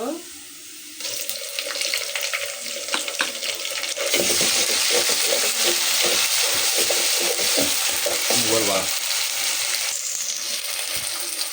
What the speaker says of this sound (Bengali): এই পাশে আমি কুচি দিয়ে তেলে সিদ্ধ করতেছি পেঁয়াজটা ভালো করে ভেজে নিয়েছি